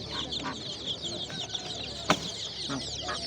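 Sande chicks and chickens peep and cluck constantly at a busy poultry market, with a sharp knock partway through and a faint voice in the background.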